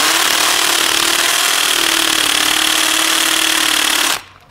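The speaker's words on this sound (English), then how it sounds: "So you can see this is a 10mm masonry bit, and these holes originally were probably a 6mm hole." A power drill with a 10mm masonry bit grinds steadily into brickwork, widening an old 6mm hole. The loud, continuous drone runs for about four seconds, then stops abruptly into quiet.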